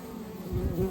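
Honey bees buzz at a beehive where a swarm has gathered, a steady close hum that swells briefly louder.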